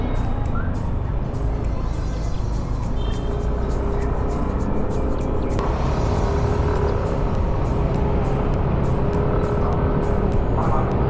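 A two-year-old motorcycle used as a habal-habal ride gives a loud, steady engine drone mixed with road and wind rush that runs unbroken from start to finish.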